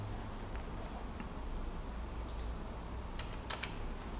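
Quiet typing of a password on a computer keyboard, a soft run of light key clicks with a few sharper taps near the end, close and isolated without speech.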